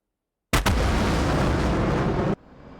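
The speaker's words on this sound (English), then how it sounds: "That was the explosion thing." A sudden loud explosion in the flight combat game DCS bursts in after silence, with a sharp crack and a dense roaring rumble that sustains for nearly two seconds before cutting to a low residual hum.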